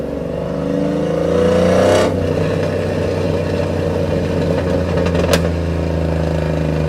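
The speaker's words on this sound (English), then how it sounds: "I know y'all hearing those pops." A Chevrolet Silverado 5.3L with a cam and Flashark longtube headers roars loudly and steadily under a hard pull, then eases off. As the revs drop, sharp exhaust pops and crackles break through the engine noise.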